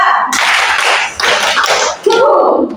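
A classroom group claps through an ice-breaking clapping chant, loud rhythmic bursts of hand claps broken by short gaps, with a brief shout or vocal sound mixed in near the end.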